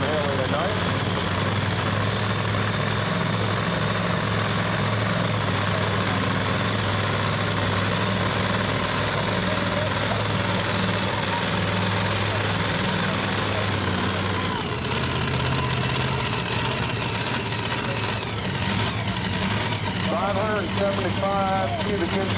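A blown 575-cubic-inch GM engine in a pulling truck idles loudly at a Franklin County, Pennsylvania truck and tractor pull, its deep steady rumble shifting pitch partway through, with an announcer talking over it.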